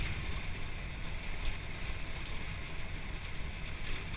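A 1925 Hudson Super Six seven-passenger phaeton cruising at about 40 on a rough tar-and-chip back road, with steady loud engine and road rumble, wind rush and rattling throughout.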